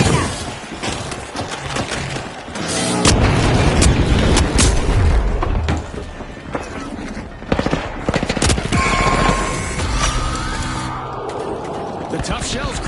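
Grenade explosions and gunfire in The Finals video game, heard as a dense, loud barrage of booms, rapid shots and shattering debris running throughout, with an announcer-style voice talking over parts of it.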